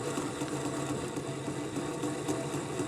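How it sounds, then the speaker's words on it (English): DIY automatic coil winding machine spinning a small coil bobbin, a steady, fast, whirring motor hum that runs continuously at close range with no speech. "As you can see, it can wind our coil very fast."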